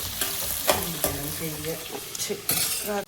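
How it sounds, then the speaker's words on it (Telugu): Onion pieces, green chilli and garlic sizzle and fry steadily in a pan over a low flame, with a few scrapes and stirs of a spoon against the pan. "ఉల్లిపాయ ముక్కలు, పచ్చిమిరకాయ ముక్కలు, వెల్లుల్లి ఇదంతా చక్కగా మంచిగా చిన్న మంట మీద వేగుతూ ఉన్నాయండి"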